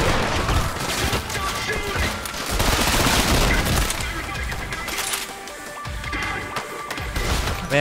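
Rapid gunfire in the video game Trepang 2, dense overlapping shots and impacts in a continuous loud barrage with a voice briefly over it.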